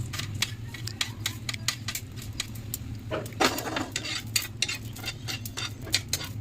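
Whole cinnamon, cardamom, black pepper, cloves and cumin dry-roasting in a pan, with a steady run of light clicks, scrapes and rattles as the spices are stirred, close and fairly quiet, with no voices.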